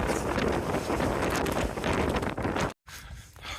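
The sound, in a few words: strong wind on Franconia Ridge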